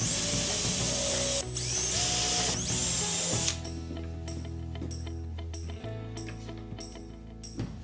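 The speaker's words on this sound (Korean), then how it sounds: "드릴로 살짝 구멍을 낸 뒤 나사로 고정을 합니다" A power drill drives screws to fix metal brackets onto a wooden frame made from IKEA bed slats, for a homemade arched floor lamp, starting with a loud high whine and then settling into a lower, steadier motor hum.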